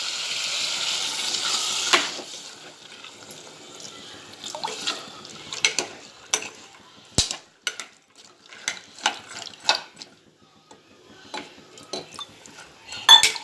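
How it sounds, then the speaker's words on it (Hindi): About a glass of water is poured into a pressure cooker holding chickpeas, giving a short rushing pour at first, followed by scattered clinks and knocks of the pot and utensils. "अब मैं इसमें पानी डालती हूँ"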